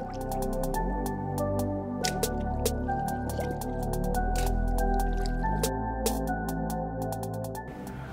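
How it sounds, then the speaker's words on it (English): Sneakers dunked into a sink of salt and vinegar water to set dye give a steady run of drips, squishes and liquid sloshing, close and continuous with no speech. "we're gonna put these shoes inside the sink of water that's mixed in with salt and vinegar to lock in the dye"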